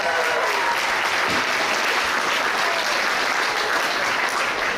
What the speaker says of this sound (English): let me have an outstanding applause